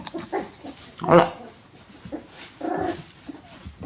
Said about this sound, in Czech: to už vrčíš na bráchu